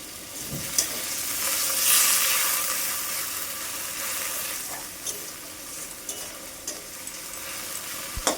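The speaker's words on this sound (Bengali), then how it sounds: "এখন দেব সামান্য জল মশলাটা ভালোভাবে কষানোর জন্য।" Spice paste with chilli paste and a splash of water sizzles steadily in a pan for a cauliflower curry, a continuous close hiss with occasional scraping stirs and small clicks, no voices.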